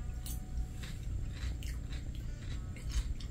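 Crunchy pickled cucumbers bitten and chewed close to the microphone, several crisp bites and wet squishy chews in an irregular rhythm, fairly quiet, no talking.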